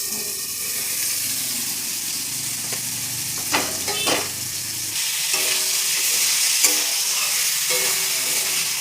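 Chicken pieces frying and being stirred in a pan, with a steady sizzle throughout and a few louder scraping stirs in the middle and near the end.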